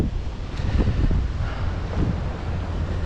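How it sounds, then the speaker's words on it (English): Steady, blustery wind buffeting the microphone, with low rumbling gusts that rise and fall; no voices. "Windy day"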